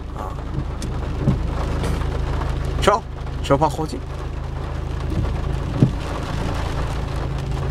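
Thunderstorm with heavy rain during flooding near Agadir, Morocco: a steady loud downpour fills the clip while someone speaks briefly over it, with a few sharp crackling bursts around the middle.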